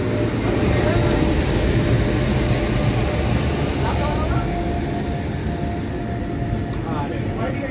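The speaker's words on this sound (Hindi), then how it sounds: "सामने से डिपार्ट हो रही है 15708 अमृतसर कटिहार अम्रपाली एक्सप्रेस" Amrapali Express 15708 from Amritsar to Katihar pulling out of an Indian railway station, with a steady loud rumble of the rolling train throughout and people talking over it.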